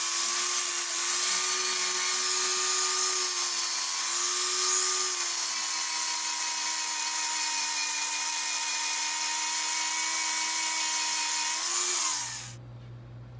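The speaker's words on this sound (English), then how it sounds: "Next, I'll grind the head off of this rivet." An angle grinder grinds the head off a steel rivet on salvaged angle iron, a loud steady high whine held for about twelve seconds that dips slightly under load, then cuts off abruptly.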